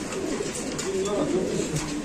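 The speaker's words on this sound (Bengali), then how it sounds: "এখানে আছে আরেক জোড়া রেসার কবুতর" Racer pigeons coo softly in a loft, low burbling calls repeating through the short stretch under a faint murmur of background talk.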